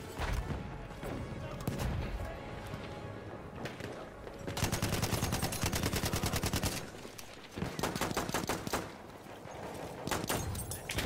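Gunfire in a video game rattles in dense automatic bursts, loud and close, with rapid repeated shots clustering into sustained volleys and brief lulls between them.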